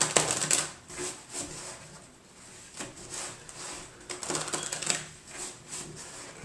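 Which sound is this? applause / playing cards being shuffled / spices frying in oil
playing cards being shuffled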